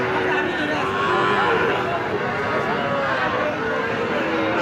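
Bulls and bull calves at a busy cattle market in Joypurhat, Bangladesh, with a constant crowd murmur and people talking over the livestock.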